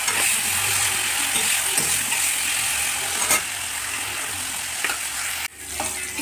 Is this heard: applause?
no